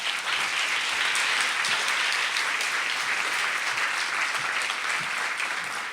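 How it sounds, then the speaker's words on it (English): Audience at an evening event applauding steadily, a dense, even wash of clapping that continues for about six seconds without a break. "Let's give them a round of applause."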